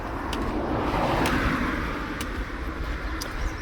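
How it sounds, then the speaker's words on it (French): A car passes by outside, heard as a steady broad road rumble and hiss that swells slightly and then eases, with no talk over it. "il y ait une voiture qui passe"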